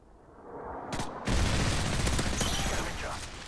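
A predator missile strike in Modern Warfare 3 builds up and then lands with a loud, sustained explosive roar, mixed with bursts of gunfire that trail off at the end, with possible voices underneath.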